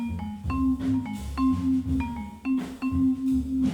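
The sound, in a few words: vibraphone playing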